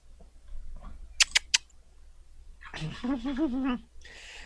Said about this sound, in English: So if you can hear my cat is crazy.